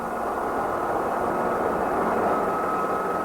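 Helicopter flying over the Alcañiz car race track during a 1988 touring car Copa AX session, a continuous broad engine and rotor roar that stays loud and steady, blended with distant racing noise and no speech.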